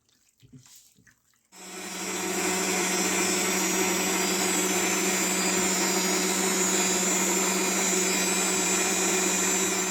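An electric mixer churns minced meat with water, pepper, salt, mustard and garlic, a steady loud whirring motor drone starting after a brief quiet clatter and running unbroken to the end.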